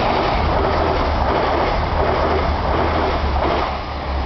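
A train runs along a railway line, a steady loud rumble of wheels on track that holds for several seconds and eases slightly at the end, with no horn.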